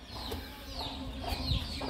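Chickens in a backyard coop where a hen is broody and sitting on eggs, with soft low clucking murmurs running steadily through the clip under a light background hum, no one speaking.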